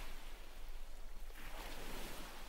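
Sea waves wash steadily on a winter seashore, a broad continuous rush of surf that swells in the second half, with some wind noise and no voices.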